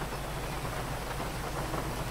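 Night rain falling in the desert town of Sandy Shores in GTA V, a dense, even hiss of steady rainfall with a low rumble underneath, continuous and unbroken with no talking.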